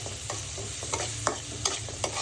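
Tiny shrimp fry with vegetable spices in a pan, a steady close sizzle broken by a few soft scraping stirs.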